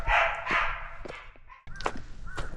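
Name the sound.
dog and another animal fighting, cries echoing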